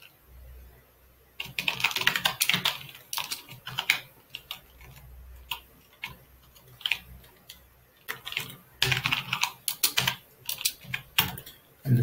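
Fingers type on a computer keyboard in uneven bursts of quick clicking keystrokes with short pauses between, close and fairly quiet, and no one speaks.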